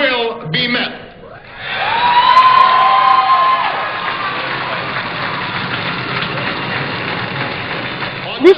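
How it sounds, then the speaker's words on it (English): Huge outdoor crowd in Washington roaring and applauding for President Barack Obama's inaugural speech, a broad sustained wash of cheers that swells after a brief lull and stays loud to the end. "earned him a booming applause from the millions of Americans in Washington"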